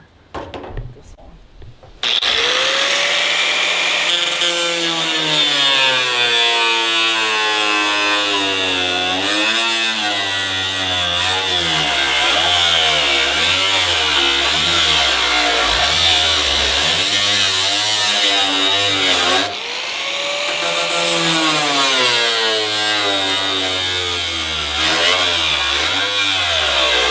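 Angle grinder with a DeWalt cutting wheel biting into metal and throwing sparks, a loud continuous whine that rises and falls in pitch as the load changes, briefly dipping near the middle before it resumes.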